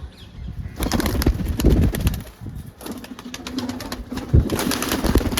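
Pigeons coo and rustle close by in a loft, with bursts of wing flapping and scuffling that rise and fall over several seconds.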